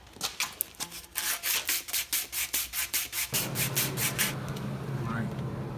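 Rhythmic abrasive scrubbing cleans a metal edge on roll cage swing-out bars before welding, quick repeated strokes that give way to a steadier grinding hiss.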